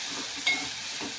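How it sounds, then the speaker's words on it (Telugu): Chopped tomatoes with turmeric and rock salt sizzle steadily in a pan over a medium flame, a continuous close hiss with light stirring scrapes and no voices. "మీడియం ఫ్లేమ్లో పెట్టుకొని మంచిగా వేగనిద్దామండి"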